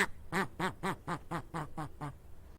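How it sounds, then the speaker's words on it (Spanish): A duck quacks eight times in a steady, evenly spaced series, each call clear, nasal and fairly close, with no talk over it. "El pato gritó de nuevo"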